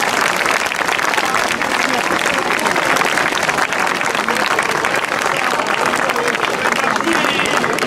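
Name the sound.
audience applauding a dance competition winner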